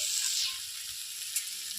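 Bottle gourd fries in a pan with a steady, bright sizzle that fades slightly after the first moment and carries on evenly, close and alone.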